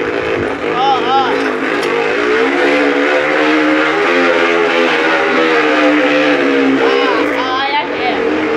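A bicycle rigged to sound like a motorcycle gives off a loud, buzzing engine-like drone that rises and falls in pitch throughout, close by, with a voice talking over it.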